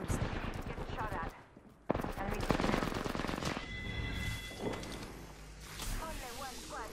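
Gunfire in the battle game Apex Legends: sustained rapid bursts of shots, loud and dense, with a short lull before firing resumes, while a voice talks over the shooting.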